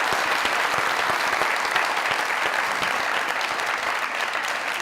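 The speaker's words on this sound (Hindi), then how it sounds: "भाई हुआ कुछ यूं, जोरदार ताली।" Loud, dense audience applause fills a comedy talk show studio, a steady wall of clapping that holds at full strength from start to finish with no voices over it.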